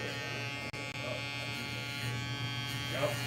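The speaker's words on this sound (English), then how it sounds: "This trimmer, it's just so good" An electric hair trimmer buzzes steadily, close and quiet, as it cuts hair, with the tone wavering slightly as the blades move through it and a voice talking over it.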